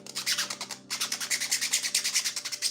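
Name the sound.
sanding a small 3D print with sandpaper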